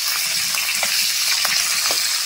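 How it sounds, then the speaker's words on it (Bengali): Small fish fry in hot oil with a steady, bright sizzle and crackle, with occasional spits and pops as the pieces are turned, close and continuous. "মাছগুলো উল্টে পাল্টে ভালো করে কিন্তু ভেজে নেব"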